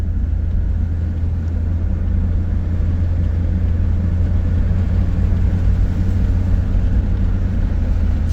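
A 2002-era Jeep Grand Cherokee WJ with a 42RLE automatic transmission low on fluid accelerating through its gears, heard as a loud, steady low engine and road rumble with no talking.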